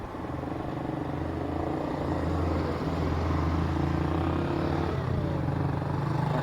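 Cars and other vehicles climbing a steep mountain highway in Afghanistan, heard as a loud, continuous engine drone and rumble that builds slightly as traffic passes nearby.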